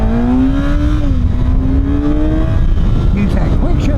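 A 2026 Kawasaki ZX-6R 600cc sport bike with a quick shifter accelerates hard, its engine climbing in pitch with a brief dip at a clean upshift, then fading into wind rush on the road.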